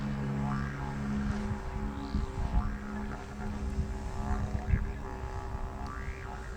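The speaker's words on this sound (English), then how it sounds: "Just taking the drone as high as I can at the moment to try to get an aerial overall shot." Camera drone flying and climbing overhead, a steady buzzing propeller whine with rising and falling pitch sweeps as it maneuvers, moderately loud against faint outdoor background.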